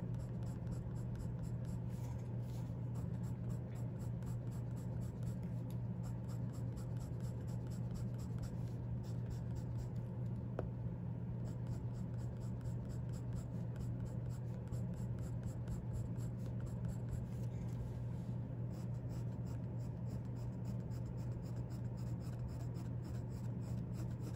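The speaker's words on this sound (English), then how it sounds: "please do not let your pencil strokes blend together" Colored pencil strokes scratch across paper in a continuous, even scraping texture, close and fairly quiet, with a low steady hum beneath.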